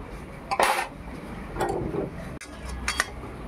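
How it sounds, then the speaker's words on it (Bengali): Boiled dal is tipped out of a cooking pot into another vessel, a few clattering knocks of metal cookware with a soft wet pour between them, close and moderately loud, with no talk. "ডালটা সেদ্ধ হয়ে গেছে, ঢেলে নিচ্ছি, একটু জল দিয়ে ধুয়ে নেব।"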